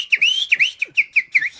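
A man whistles at a woman in a quick run of about seven short, piercing rising-and-falling chirps, loud and close, with no other sound.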